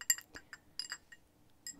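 A Japanese glass dip pen clinking lightly, several small bright taps scattered over a couple of seconds, close and quiet in a still room.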